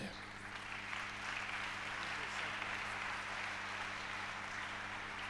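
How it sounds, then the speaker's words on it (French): Church congregation applauding during a sermon, a steady wash of clapping from many hands filling the room, sustained and moderately loud throughout with a low hum underneath. "Acclamons le Seigneur."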